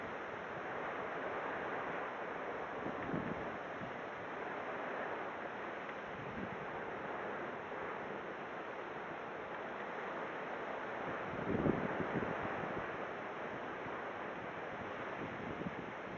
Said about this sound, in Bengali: ও বাগানে কি ঝোড়ো হাওয়া বাবা